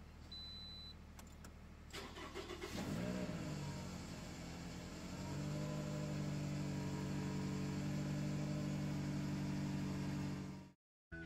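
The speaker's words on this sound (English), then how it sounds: "Now I'm going to warm up the engine and check again." A Toyota car engine cranks briefly and then starts up, settling into a steady, close idle as it warms up, with a low harmonic hum running continuously until it cuts off near the end.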